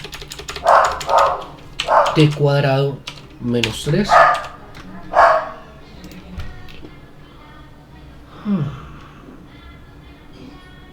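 A dog barks in several short bursts at a distance while a person talks over it.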